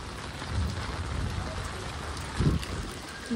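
Steady rain hisses across the whole stretch, a dense wash of noise with a couple of louder gusts or splashes.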